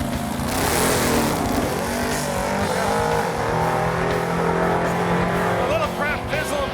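A 1979 Pontiac Firebird on a drag strip makes a loud, sustained engine roar at full throttle through its run, with a hint of tire noise and someone talking faintly underneath.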